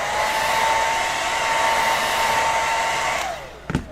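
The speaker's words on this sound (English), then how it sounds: "I'm kind of speeding things up with a hair dryer." A hair dryer blows steadily and loudly, speeding the drying of contact cement while a helmet is built, then winds down and switches off near the end, followed by a few brief handling knocks.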